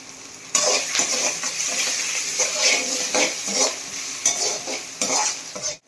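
Cashews with ginger and green chilli sautéing in a pan, close rhythmic scraping and clinking of a spoon stirring over a steady sizzle, with a faint voice in the background.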